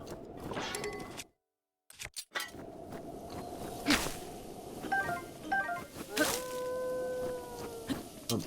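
A wolf in The Legend of Zelda: Breath of the Wild howls in a few sustained tonal cries amid game effects and a brief silent gap.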